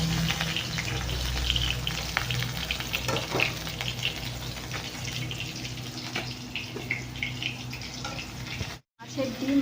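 Small chapila fish frying in a pan, a steady broadband sizzle with occasional stirring scrapes, close and moderately loud for about ten seconds, cutting out briefly near the end.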